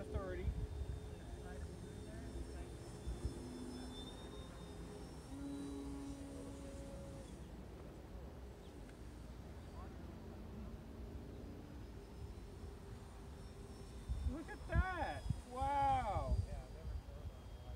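An electric motor on a Sig Clipped Wing Cub RC model airplane runs at half throttle, a steady thin whine held through the whole stretch, partly buried under excited talk from people nearby.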